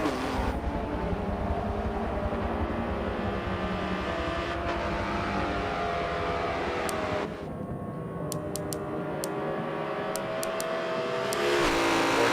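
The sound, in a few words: McLaren race car accelerating out of a corner at Daytona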